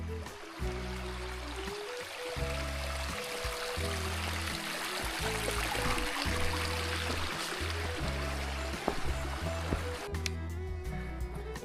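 A bush creek burbles and trickles steadily at close range, continuous flowing water with no voices over it.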